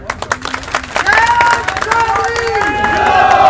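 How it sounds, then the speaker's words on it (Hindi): Crowd applause and cheering at an outdoor political rally where a statue is being unveiled, rising over scattered claps with a voice talking loudly over the clapping throughout. "ताली आप बजा रहे हो"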